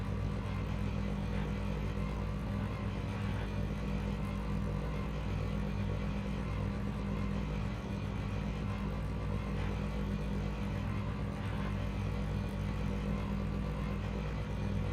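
Stock car engine idling: a steady, rough low rumble holds for the whole stretch, even and continuous with faint clatter on top and no revving.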